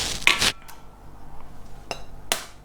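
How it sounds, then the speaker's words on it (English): Eggs cracked with a metal spoon into a quiche mix: a couple of sharp metallic taps close by, with a quiet pause between them and a final light tap, no talk. "So I'm going to use a metal spoon and just crack my eggs rather violently into that mix."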